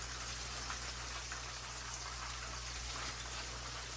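Steady, dense crackling and sizzling of chicken frying in hot oil, continuous and even throughout, with a low background hum.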